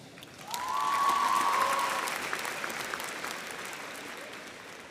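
Audience applause fills a high school graduation ceremony, a broad wash of many hands clapping that swells and then tapers, with a faint voice over it at the start.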